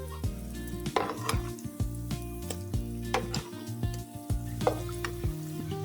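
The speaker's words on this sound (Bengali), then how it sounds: "আমি এভাবে কিন্তু সবগুলি পিঠা ভেজে নিয়ে আসছি" Palm fruit pitha dumplings frying in hot oil, a continuous sizzle broken by repeated clinks and scrapes of a utensil against the pan, with a steady low tonal hum running underneath; no one speaks.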